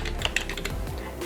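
Quick clicks of a computer keyboard as someone types a tag and presses the comma key, a steady run of close, crisp keystrokes with no talking.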